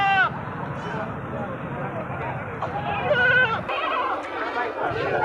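Goats, a Beetal–Totapuri cross, bleat at a busy outdoor livestock market. The short calls come mostly early and midway, under steady crowd chatter and nearby voices talking.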